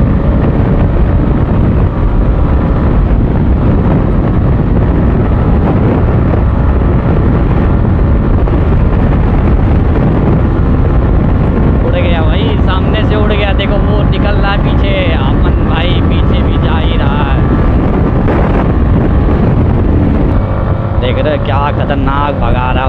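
Apache RTR 160 and Yamaha MT-15 motorcycles in a roadside drag race, engines roaring loudly and continuously with heavy wind buffeting, while people talk over the noise throughout.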